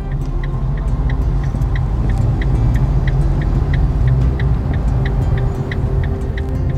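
A car cruising in highway traffic gives a loud, steady low rumble of engine and road noise, with a regular faint ticking, likely a turn signal, pulsing above it throughout.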